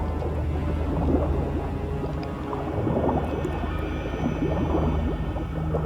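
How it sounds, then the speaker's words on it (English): Deep, rumbling whale calls echo through an underwater cave in Conan Exiles, a low, bubbly, murky drone with faint groans, steady and moderately quiet throughout with no talk. "You enter a second cavern here and you hear a whale sound."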